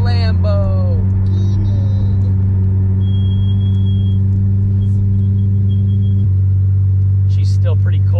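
Lamborghini rumbling steadily on a New Year's Day drive, its engine a constant low drone under nearby conversation in the cabin.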